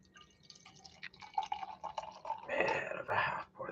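Canned beer is poured as a half pour into a glass: a quiet, close trickle and dribble that swells into a fuller, steady gush of liquid near the end, with no voices.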